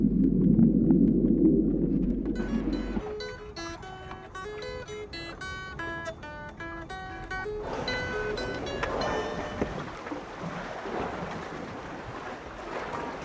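Orca echolocation picked up underwater by a hydrophone off a dock: a low rumble gives way to rapid trains of stacked clicks and buzzing tones, followed by a noisier wash of water sound.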